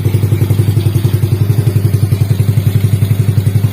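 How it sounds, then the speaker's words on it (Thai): A Honda Wave 100 motorcycle with hard starting and an unsteady idle runs close to the microphone, a loud, steady stream of even low thumping pulses throughout, with no speech. "ผมจะสตาร์ทโดยที่ว่าไม่ต้องบิดคันเร่งนะครับ"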